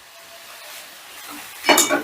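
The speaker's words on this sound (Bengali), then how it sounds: "এবারে ডিমটাও আলতো হাতে মিশিয়ে নিচ্ছি।" A fried egg is folded gently into spiced chicken for chicken bhujia. There is soft stirring at first, then a louder burst of sizzling scrape near the end, with no talk.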